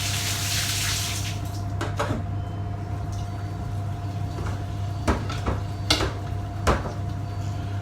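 Water pours and runs steadily in a household setting, a continuous close wash with a faint steady hum beneath and a few brief clatters and knocks scattered through it.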